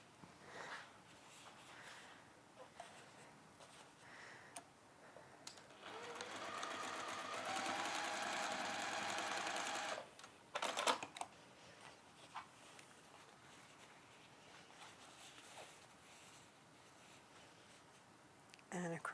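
A sewing machine stitches across a corner seam of a simple washbag, whirring steadily for a few seconds in the middle amid quieter room noise and scattered clicks.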